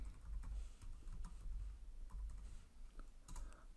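Typing on a computer keyboard: a quiet run of close, irregular key taps and clicks, faint and alone.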